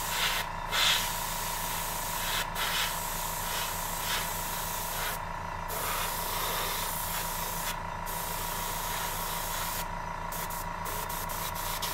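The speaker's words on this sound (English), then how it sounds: "I'm probably going to end up spraying the whole model" Aerosol spray paint hisses in short bursts onto a Wizkids Gargantuan White Dragon miniature, steady and close, with brief pauses between passes.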